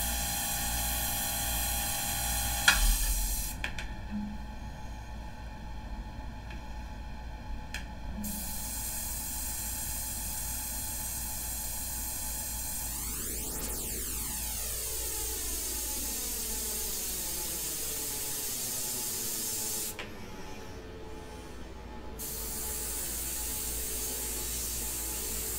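An airbrush sprays India ink in a steady, unbroken hiss with a faint tonal hum beneath it, running close and even for over twenty seconds.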